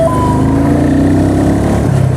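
A Royal Enfield Meteor 350 motorcycle being ridden, a steady loud close engine drone with low throbbing exhaust and a slight pitch rise.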